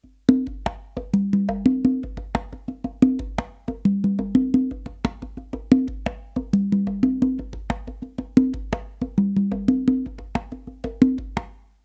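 Congas are played in a steady repeating pattern, crisp open and muted slaps in a lively syncopated rhythm, close and clear with no talking.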